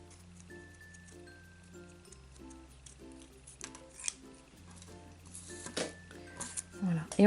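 Scissors snip out a pair of paper eyes for an origami bear, with several crisp, close cuts in a ticking rhythm over soft background music.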